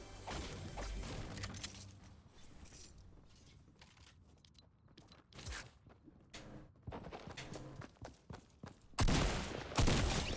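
Bursts of rapid gunfire in a video game crack out in uneven volleys amid mechanical clicks and clatter, quiet at first and louder toward the end.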